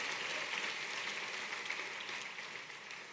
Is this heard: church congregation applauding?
yes